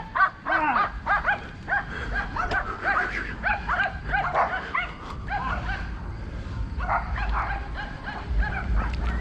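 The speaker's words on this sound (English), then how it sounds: "Yappy dogs." Small dogs yap and bark in repeated high, sharp bursts throughout, fairly close and loud, with some whimpering yips between and steady background noise beneath.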